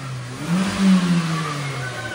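A car engine revs hard to around 5,000 RPM, a strained mid-pitched roar that swells to a peak near the middle and then holds steady, with no voices over it.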